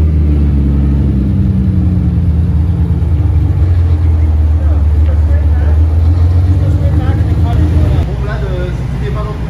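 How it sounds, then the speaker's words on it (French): A Porsche GT4 fires up from cold, its engine and sport exhaust settling into a loud, steady low rumble that holds close and continuous, easing slightly near the end, with people talking over it. "Ah, le cold start de la GT4 là."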